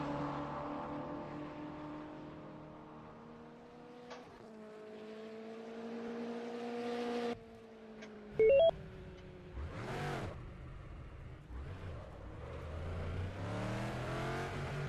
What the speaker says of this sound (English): Sound of an engine? Nice, isn't it?